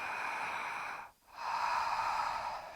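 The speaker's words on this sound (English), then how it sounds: "it's that breathing where you're pursing your throat" Slow ujjayi yoga breathing through a constricted throat, a steady hissing rasp on the inhale, a brief pause, then a longer, smooth exhale, close and fairly soft.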